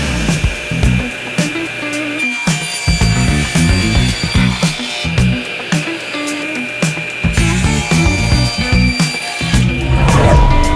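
A saw cuts a wood board to length for a kitchen knife block project, a loud, steady rasping cut running nearly continuously with brief pauses and a rising finish, no talk.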